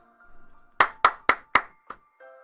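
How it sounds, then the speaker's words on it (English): Four sharp hand claps in even rhythm, close and loud, followed by a fainter fifth clap, during a casual podcast recording. "I was watching you clap"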